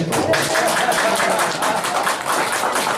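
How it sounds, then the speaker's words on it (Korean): Church congregation gives a round of applause during a sermon, thick, steady clapping heard close and continuous for a few seconds with voices mixed in. "영광의 박수라도 한번 해도"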